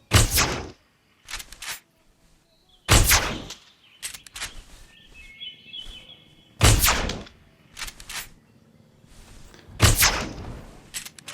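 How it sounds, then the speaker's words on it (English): Tranquilizer gun shots ring out in Jurassic World Evolution's Return to Jurassic Park expansion: four loud, sharp blasts about three seconds apart, each followed by quieter clicks and mechanical taps, with faint bird chirps and hum between them. "it's shooting this trank gun over and over again"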